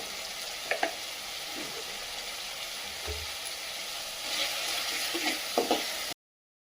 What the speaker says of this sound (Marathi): अशा प्रकारे कांदा आणि टोमॅटो छान परतले गेले मस्तपैकी तेल पण सुटले